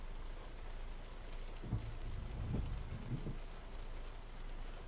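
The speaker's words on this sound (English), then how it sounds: "I hear the rain, but I barely hear the engine" Steady rain patters in the Euro Truck Simulator 2 game while a truck idles and warms up. The rainfall is soft and continuous, with a faint low rumble underneath and no one talking.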